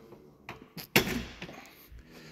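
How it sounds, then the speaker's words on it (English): The door handle and door of a 1975 facelifted Mark III Ford Cortina 2000E at a classic car auction, heard as a few soft metallic clicks followed by a louder latch clunk and the rattle of the door opening. "Cortina and Capri door handle."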